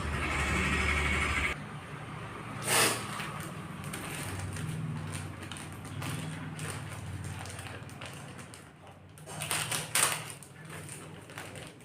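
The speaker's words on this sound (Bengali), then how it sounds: "মাশরুমটা এখন কাটবো" Knife cutting fresh mushrooms on a board, a few crisp crunching taps spaced out over a quiet kitchen background, with a louder cluster of cuts near the end.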